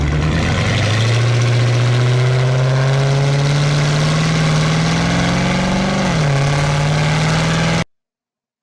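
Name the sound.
car exhaust acceleration sound from GTA 5 video game mod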